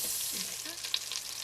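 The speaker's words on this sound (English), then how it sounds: "my pan's getting pretty hot. I can see my butter is just starting to brown" Butter sizzles in a hot pan over medium-high heat for beef stroganoff, a soft steady crackle holding at low level with a few small pops, close by and with no talking.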